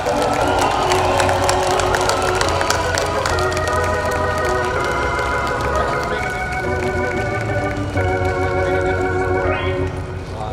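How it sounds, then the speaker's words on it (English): A big stadium-sized crowd at the 2016 Chicago Cubs World Series rally cheers and applauds the Ricketts family, a loud, sustained roar of clapping and shouting with music playing underneath throughout. "I want to give a round of applause to the Ricketts family for doing what they did."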